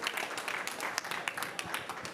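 Applause from a conference audience at a sustainable ICT sector event, a dense wash of many hands clapping steadily at moderate level, close and continuous without talk.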